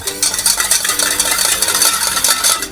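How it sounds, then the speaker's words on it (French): A spoon whisks a vinaigrette of Orléans vinegar, a brisk and steady swishing and clinking in a bowl, close and loud, with no talking. "Mélangez bien."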